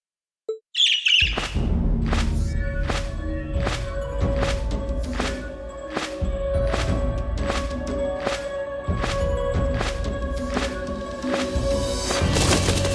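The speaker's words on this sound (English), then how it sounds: "It's the bird I saw in the Capitol." A bird in the video game Trails of Cold Steel II gives a brief, shrill squawk right at the start, then driving rhythmic game music with steady beats takes over.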